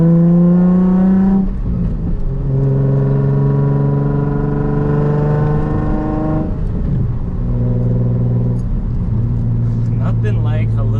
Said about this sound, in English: Nothing like a little VQ and its Tomei exhaust.